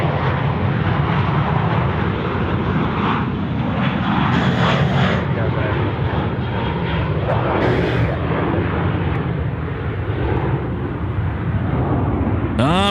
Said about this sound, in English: Jetstar aircraft just getting away here.